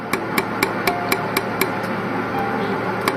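A jewelry laser welding machine fires on a ring in a rapid, regular series of sharp clicking pulses, about four per second, close and crisp over a faint background hum.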